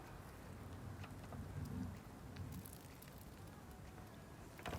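Steady rain falls outdoors, a soft continuous patter of drops on surfaces with faint scattered ticks, heard quietly throughout with no voices.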